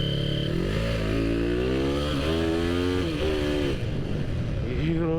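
A Honda CB Tiger motorcycle with a 300cc MX block accelerates hard through the gears, the engine pitch climbing repeatedly between shifts, loud and close, with a rider's voice briefly heard.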